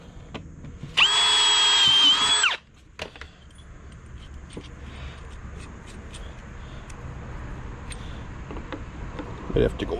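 Power drill whines loudly for about a second and a half while boring a hole for a carriage bolt on a homemade self-driving lawn mower, then stops, followed by quiet handling clicks and someone talking.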